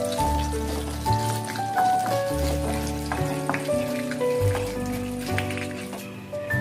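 Urad dal, shallots and curry leaves crackling in hot oil for a banana flower thoran, a busy close sizzle with scattered pops running beneath background music.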